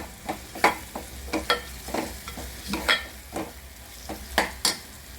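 Spices and coriander powder roast in a pan for a fenugreek curry, a low sizzle under frequent sharp scrapes and taps of a spoon being stirred and mashed, up close with no talk.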